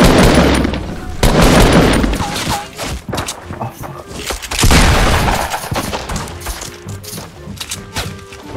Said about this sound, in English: they're shooting from behind me